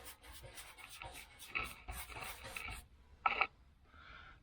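Brush strokes of rust coating spread across the rusty, holed floor of a 1976 El Camino, a rapid series of close, dry rasping scrubs that pause briefly, then one sharper scrape and a softer final stroke.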